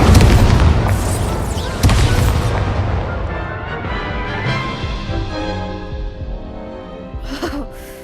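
Incendio fire spell cast in Hogwarts Legacy: a heavy booming burst up front, then a second hit, followed by a long roaring, crackling decay that gradually fades.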